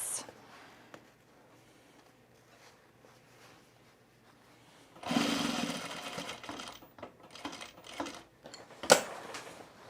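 A sewing machine stitches along the edge of men's cargo shorts in a few short, uneven bursts. The start is quiet, with faint handling sounds.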